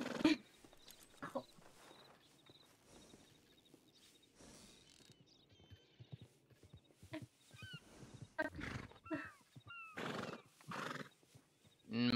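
In a roleplay video game, a horse whinnies in several rising, shrill calls and its hooves clip-clop at intervals, with quiet stretches between the louder bursts.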